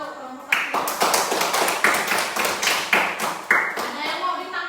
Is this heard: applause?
yes